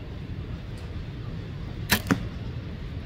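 An arrow loosed from a bow strikes the target with two quick sharp impacts close together, set against a soft outdoor wind background with no talking.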